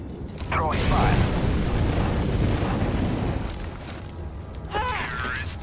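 An incendiary fire grenade bursts into a roaring, crackling blaze during a Counter-Strike match, a loud sustained whoosh of flames for several seconds that eases off, with a voice speaking briefly over it.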